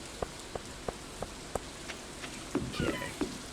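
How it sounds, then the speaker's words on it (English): Rain falling in Stardew Valley, a soft constant patter beneath a series of evenly spaced light ticks, with a brief cluster of other game sounds near the end. "It's raining, though."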